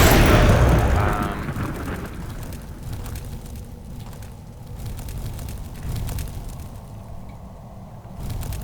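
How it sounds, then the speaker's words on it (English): A frost bomb goes off in a video game dungeon: a loud, deep boom bursts out at the start, then fades into a rumbling, crackling tail that lingers for several seconds. "Send a flipping frost bomb through."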